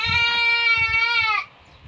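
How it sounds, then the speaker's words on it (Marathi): A local village goat gives one long, strained bleat, close and loud, holding steady for over a second before breaking off, with soft shuffling beneath it. "पूर्णपणे गावरान शेळी बघा, बघू शकता"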